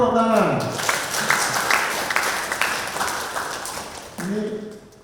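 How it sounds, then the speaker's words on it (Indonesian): Audience applause at a school gathering, a few seconds of steady clapping from a group mixed with voices and cheering. "Tepuk tangan."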